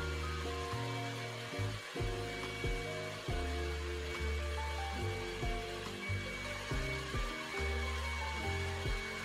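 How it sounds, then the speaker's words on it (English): A hair dryer blows with a steady whoosh and hum, its pitch shifting in short steps as the setting or airflow changes. "now I'm gonna use this hair dryer with no guilt."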